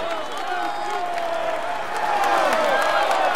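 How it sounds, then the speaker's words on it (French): A crowd applauds and cheers for the stage winner of a cycling race, a steady dense wash of clapping and voices with whistles and shouts on top, growing slightly louder toward the end. "Mesdames et messieurs, applaudissez-le bien fort."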